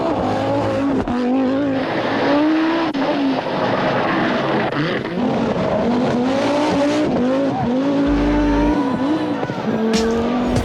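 A 2020 Audi RS6 Avant with Quattro drive is driven hard, its engine loud and close with rising and falling revs, gear changes and brief tire squeal throughout.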